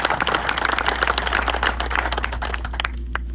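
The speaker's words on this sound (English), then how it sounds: "If you could clap for him, I would appreciate it" Crowd applause at an outdoor groundbreaking ceremony for homes in Iowa, a sustained patter of many hands clapping at moderate volume over a low steady hum, thinning out toward the end.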